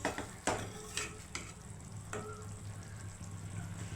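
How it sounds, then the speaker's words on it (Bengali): Fish curry (nihere macher tobga) gently stirred in a pan, with a few soft spoon scrapes and taps against the pan over a low, steady simmering sizzle. "এইভাবে হালকা করে করে আস্তে আস্তে নেড়ে দিতে হবে, যাতে না বসে না যায়।"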